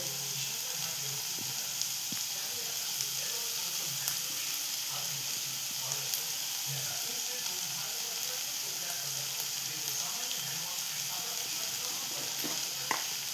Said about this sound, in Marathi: त्यात आपण टाकतो ओलं खोबरं